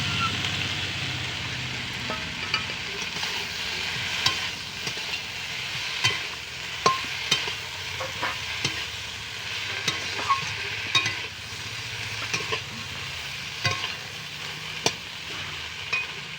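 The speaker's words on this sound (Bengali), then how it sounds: "এতে কোনো জল দেবো না, এইভাবে আস্তে আস্তে নেড়ে নেড়ে ভাজতে থাকবো।" Small fish are stir-fried slowly in chilli paste without water, giving a steady close sizzle broken by intermittent clicks and scrapes of a utensil against the pan.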